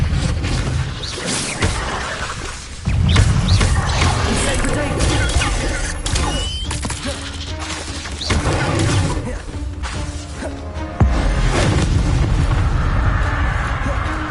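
Expelliarmus spell casts in the video game Hogwarts Legacy, a dense run of booming bursts, crashes and whooshing magic effects, loud and continuous with several sharp hits, amid busy game combat noise.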